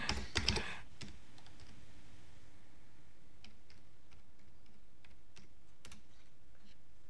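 Typing on a computer keyboard: a quick cluster of loud clicks at the start, then sparse, faint key taps scattered over a steady low room hiss.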